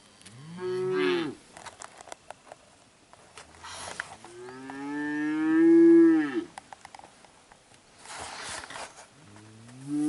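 Cattle gathered at a water hole give several long, loud moos, one after another with short pauses between, and quiet outdoor background in between.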